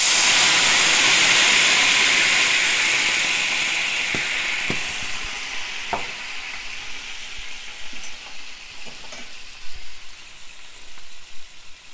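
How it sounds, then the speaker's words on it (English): White wine poured into a hot pan after searing chicken breast, an intense initial sizzle and hiss that gradually dies down into softer bubbling, with a few faint clinks of a utensil scraping the pan bottom. "we are going to deglaze the pan, which means we're going to loosen up all the brown bits on the bottom with a little bit of white wine"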